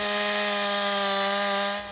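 A chainsaw cuts wood in a forestry training setting, with a loud, steady high-pitched whine that runs for nearly two seconds before dropping off at the end; no speech.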